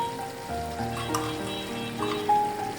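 Ghee hitting a hot pan while mixed vegetables cook for a wedding-style dish gives a steady, moderate sizzle with a brief sharper crackle, no voices.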